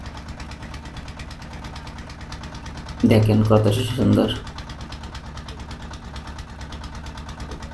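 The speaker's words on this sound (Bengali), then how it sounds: "দেখতেই পাচ্ছেন যে একটা ট্রলার কিন্তু চলে যাচ্ছে খুব দ্রুত" A trawler boat's engine chugs steadily on a river, a constant mid-distance drone running throughout, while a person speaks briefly over it partway through.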